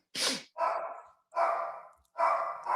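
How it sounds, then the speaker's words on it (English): A dog barks four times in a steady run, each bark loud and close with a short gap between, and a quick breath or yip comes before the first. "Sorry for my dog barking."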